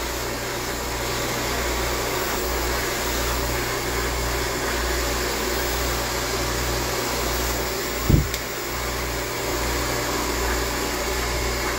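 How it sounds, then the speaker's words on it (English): A Basilisk Ceramic Professional hair blow dryer runs with a steady, even whooshing hum for the whole stretch, with one brief knock partway through and no speech. "So the blow dryer that I'm using is the Basilisk Ceramic Professional."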